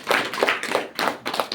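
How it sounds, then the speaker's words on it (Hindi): An audience at a Navratri religious discourse claps in a short burst of several sharp, fairly even hand claps, close and clear with no talk over them. "तालियां होना चाहिए"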